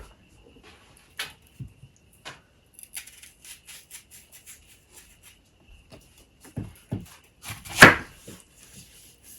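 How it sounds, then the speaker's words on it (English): A knife chops onion on a cutting board in sparse, uneven cuts, faint at first and then louder and quicker near the end, with a few soft clatters and no talking. "I'm thankful that you volunteered to cut the onion."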